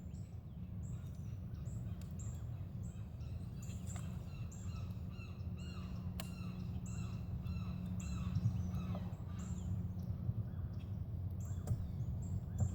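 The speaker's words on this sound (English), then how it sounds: "There's a bird in the back." A bird calls repeatedly in the background outdoors on a quiet day by a creek while fishing, with short chirps scattered across the clip over steady low ambient rumble.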